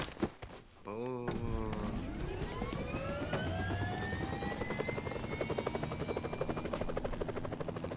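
After a few short clicks, an aircraft in the mobile game PUBG Mobile starts up. Its engine drone climbs steadily in pitch, then holds as a loud, continuous whine.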